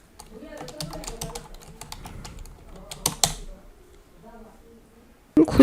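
Rapid keystrokes on a computer keyboard as a business name is typed into a web form, a steady run of light clicks with a brief pause, then a louder burst of typing at the end.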